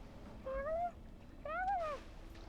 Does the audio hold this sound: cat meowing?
yes